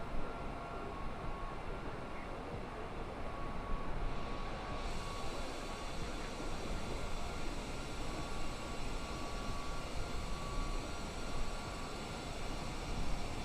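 Steady broadband cabin-style roar of a Qantas Boeing 787 airliner in flight in a flight simulator game, a constant engine and air rush that holds evenly throughout with no talking.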